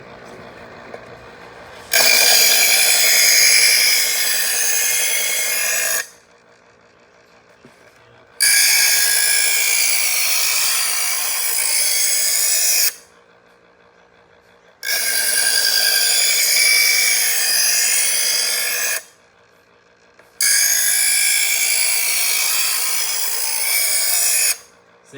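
Chef's Choice electric knife sharpener grinding a blade in loud, steady passes of about four to six seconds each, four strokes broken by short pauses in which only the motor hum remains, close up and with no talk.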